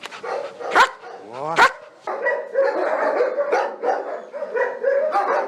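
A dog barks loudly on command a few times up close, with sharp yelps and whimpering in between, then keeps up a run of steady barks.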